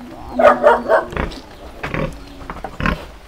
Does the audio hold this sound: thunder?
no